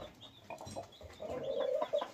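A champion fighting rooster clucking in short, soft calls over a low background murmur, fairly close.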